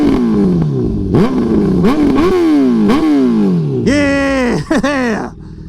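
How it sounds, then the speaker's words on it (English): A 2017 Aprilia Tuono V4 1100 Factory motorcycle's exhaust is revved up close, several sharp climbing blips that drop back, ending in a loud sustained rev and a quick final blip before cutting off. "let's get some throttle action here. Listen to this awesome exhaust."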